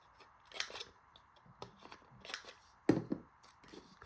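Paper corners being rounded with a corner punch or scissors while making a mini envelope, a few soft crisp snips and rustles with one sharper cut near the end.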